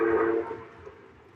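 A model train whistle on a home layout sounds a short, bright toot that fades into quiet running noise.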